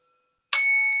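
A bell struck once with a kotsu stick rings out sharply after a half-second of silence, then sustains a bright, steady metallic tone that fades only slightly.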